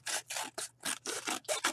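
Scissors cut through a paper plate in a rapid series of rasping, crunchy snips, about seven strokes in quick rhythm, close up and alone.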